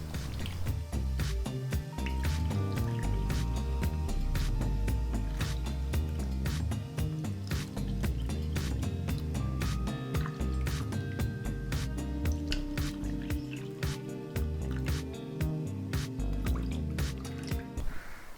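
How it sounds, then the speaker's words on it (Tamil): Water is added to wheat milk for Tirunelveli halwa, a long run of close, rapid, irregular drips and splashes of liquid falling into a bowl, steady throughout, with no voices. "இப்போ நான் அதே கப்பில் ஒரு 4 கப் அளவுக்கு தண்ணீரை இந்த கோதுமை பாலில் சேர்க்க போகிறேன்"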